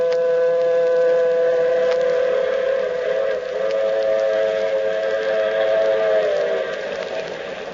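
A train rumbles steadily across the flatlands of the Southwest, with a sustained horn-like tone droning throughout and slowly fading toward the end.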